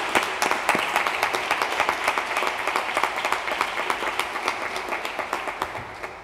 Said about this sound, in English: So how about another round of applause for Claire Kramer